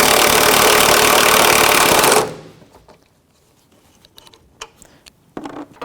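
A power tool with a 15mm socket spins off a front strut mount nut on a 2007-2017 Jeep Patriot 2.4L, a loud, rapid buzzing rattle for about two seconds, then faint clicks and handling noises.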